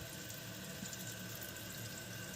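A Kohler toilet tank refills with water after a repair, a steady rushing and hissing flow running continuously at moderate level, no speech.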